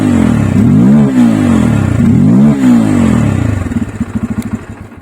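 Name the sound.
Bajaj Pulsar F250 motorcycle exhaust after cranking engine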